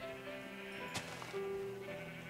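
Sheep in a farming video game bleat several times, drawn-out wavering cries overlapping against a soft, steady in-game background with no talking.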